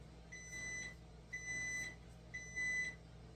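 Air fryer preheated to 400 degrees signals it is done with three short, evenly spaced electronic beeps, clear and close over a quiet kitchen background.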